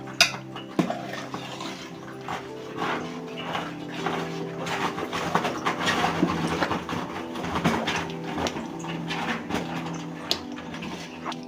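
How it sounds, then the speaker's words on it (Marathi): Hot water poured from a small metal pot into papad dough, a steady splashing flow with occasional metal clinks and scraping in a kitchen. "हे गरम पाणी आपण एक तांब्या घालूया"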